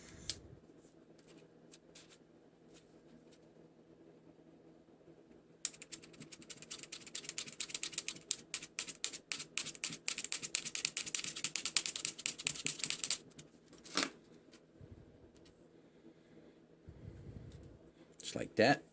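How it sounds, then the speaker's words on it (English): An X-Acto knife cuts a plastic part on a 1970 GTO scale model, producing dense rapid scraping and clicking close up over several seconds. A voice speaks quietly at times. "Now I'm going to cut it with my X-Acto knife."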